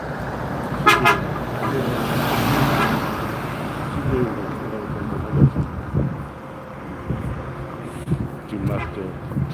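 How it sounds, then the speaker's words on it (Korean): A school tour bus driver in Incheon toots his horn in greeting on a busy road, a few short blasts standing out over traffic noise and passing vehicles while a person talks nearby. "인천 스쿨투어 그 운전하시는 분이 반갑다고 빵빵거리고 하는 거예요"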